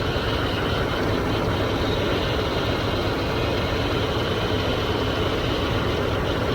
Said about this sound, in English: Okay, the engine's running.